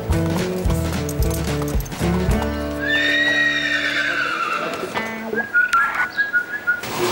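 An Arabian stallion in a stable after a wash gives a loud, drawn-out whinny, with hoof clip-clops before it and sharp hoof knocks and scuffs afterward, all close and free of talk.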